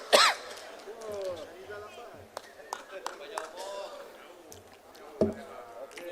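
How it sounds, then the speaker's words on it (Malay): A man at a political assembly coughs and clears his throat, a sharp burst at the start and a few shorter throaty coughs later, mixed with quiet murmuring in the hall. "batuk sikit"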